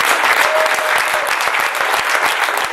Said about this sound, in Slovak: A ešte predtým výborný potlesk.